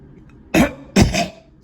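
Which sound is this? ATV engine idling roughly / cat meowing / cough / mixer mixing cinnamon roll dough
cough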